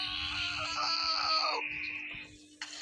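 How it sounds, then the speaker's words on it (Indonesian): A character in the video game Gorebox screams in pain, a loud drawn-out wailing cry that breaks off near the end, over a steady hum with faint background sounds. "Orangnya saja sampai berteriak kesakitan guys"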